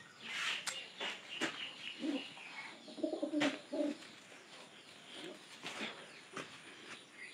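Pigeons coo inside a pigeon house, low soft coos clustered near the middle, set among sharper bird chirps and calls with steady room noise throughout.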